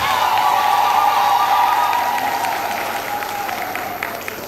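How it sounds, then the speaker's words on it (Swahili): A church congregation of students and parents bursts into loud, sustained applause that fills the room, then slowly tapers off over a few seconds. "Tumpigie Mungu makofi mengi kabisa."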